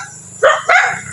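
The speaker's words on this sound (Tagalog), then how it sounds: "Ayan yung aso, kaol ng kaol." A dog gives two quick, close barks in succession over faint background hum.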